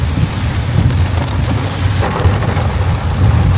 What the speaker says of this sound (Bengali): কিন্তু এখন প্রচন্ড জোরে বৃষ্টি চলে এসছে